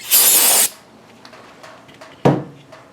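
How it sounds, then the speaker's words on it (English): A loud, steady aerosol spray of brake parts cleaner hisses for about half a second near a brake caliper banjo bolt on a Honda Pilot, followed by a few faint clicks and a short knock. "Now spray some brake parts cleaner over here where the banjo bolt is."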